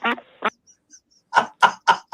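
Ducks quack in a lively burst, two calls, a pause with faint chirps, then four evenly spaced quacks, fairly close and clear outdoors.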